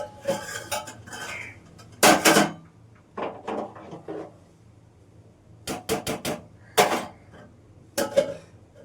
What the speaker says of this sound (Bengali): কয়েকটা আলু ছিল কাটলাম